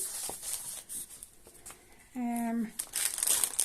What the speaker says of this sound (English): Apologies for the crinkling.